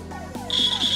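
A steady high-pitched electronic buzz from a toy circuit buzzer starts partway through, briefly breaks, then resumes, loud and close over faint background tones.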